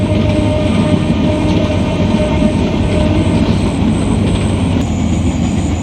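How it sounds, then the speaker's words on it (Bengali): A passing train makes a loud, continuous rumble and roar of wheels and carriages, steady and close throughout with a faint high whine riding on top. "ট্রেন চলে যাইতেছে।"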